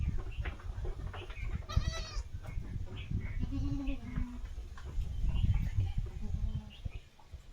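Goats kept by a traditional village shepherd bleat in repeated wavering calls, some near and some farther off. Voices talk over a busy outdoor murmur, and a bird calls now and then.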